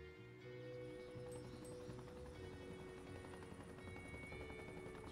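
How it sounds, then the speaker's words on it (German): Helicopter in the Evil Genius 2 video game, a faint, steady rotor hum that stays level throughout, heard alone under a low background drone. "hier der Hubschrauber ist auch schon auf dem Weg"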